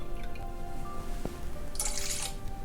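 Soy sauce is poured into a sauce mixture, making a brief splashing trickle of liquid over a background hum.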